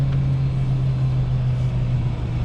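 Truck engine idling steadily at a loading dock during parallel parking, a continuous low rumble with a strong hum, close and constant, no voices.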